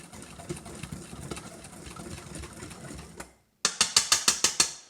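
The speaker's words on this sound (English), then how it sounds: "we're going to just whisk those together, sugar and the cinnamon" Powdered sugar and ground cinnamon are whisked together in a bowl, first as a muffled rustling churn, then as a brief pause followed by a rapid series of sharp, ringing taps.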